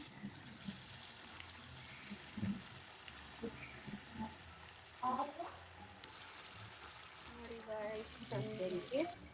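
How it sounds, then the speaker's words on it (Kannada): Small lentil vadas fry in hot oil in a pan, a faint continuous sizzle broken by short stirring clatters and bursts of bubbling, with talking in the background. "ಚೆನ್ನಾಗಿ ಬೇಯ್ತದೆ. ಇನ್ನು ಬ್ರೌನ್ ಕಲರ್ ಆಗಿ ಬೇಯಿಸ್ಬೇಕು."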